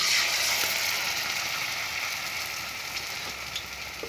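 Malabar spinach leaf fritters coated in batter fry in hot oil, a dense, continuous crackling sizzle that stays close and fairly loud, easing slightly over time.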